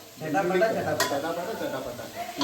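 Garlic kebab frying in a pan gives a steady close sizzle with occasional utensil scrapes and clinks, with a voice speaking faintly under it.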